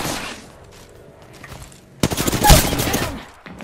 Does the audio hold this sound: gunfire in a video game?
yes